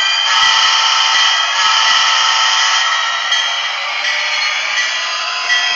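An SD45-2 model locomotive with a sound decoder, an Athearn Genesis HO diesel on an MRC sound system, revving at full throttle: a steady, loud droning engine roar with a slight rising swell, alone with no talk.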